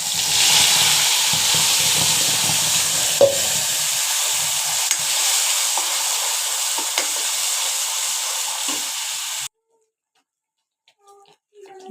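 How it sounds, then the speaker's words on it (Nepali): Asafoetida and ground spices fry in hot oil with a loud, steady broadband sizzle and a few stirring clatters, running for most of the clip before cutting off abruptly into near silence with faint kitchen knocks. "यसमा म हाल्दैछु थोरै हिङ, पिसेर राखेको मसला हाल्दैछु"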